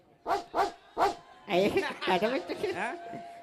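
Three sharp, evenly spaced woofs in a human voice imitating a dog's bark, followed by a longer run of yelps and whiny growling as the imitation carries on.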